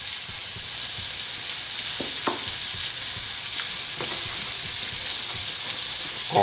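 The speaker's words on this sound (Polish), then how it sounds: "I wlewamy na patelnię. Od razu mieszamy, bo to bardzo szybko wszystko zażeluje." Teriyaki gel is poured into a frying pan of vegetables and stirred, making a loud, steady sizzle with scattered scraping stirs over the continuous frying hiss and no speech.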